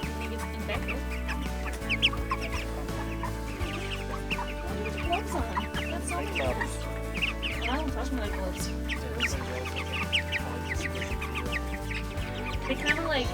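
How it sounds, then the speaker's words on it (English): Backyard chickens clucking and murmuring together in their coop at night, a steady layered chorus of close, overlapping clucks with scattered louder calls throughout. "Anyway, night night, chickies."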